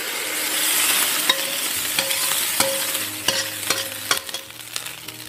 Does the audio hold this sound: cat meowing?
no